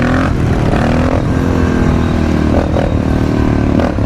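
Supermoto motorcycle engine revving hard as it accelerates off the line, a loud, continuous close-up roar with rising pitch sweeps and brief throttle blips, no talking.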